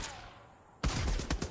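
Rapid gunfire bursts loud and close in the video game Far Cry. The shots come as a dense, crackling volley after a brief quieter stretch.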